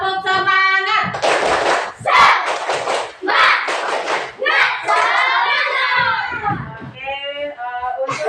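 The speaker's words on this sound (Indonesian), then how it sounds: "Tepuk semangat dulu biar lebih semangat belajar kita hari ini." A fourth-grade elementary classroom does the rhythmic spirit clap, tepuk semangat: children chant together in bursts of sharp patterned hand claps, loud and close, with young voices throughout.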